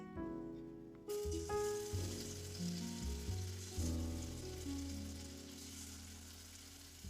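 Leftover pieces of begni, batter-fried eggplant fritters, sizzling and crackling in a hot pan in a home kitchen, close and steady, with occasional clinks and stirring knocks over the frying.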